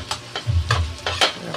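Onion and garlic sautéing in butter in a pan for a homemade carbonara, with a soft close sizzle broken by a few quick stirring scrapes over a brief moment.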